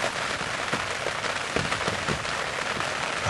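Steady rain falling outdoors during a spring turkey hunt, a dense, even patter that fills the whole stretch with no voices and no pauses.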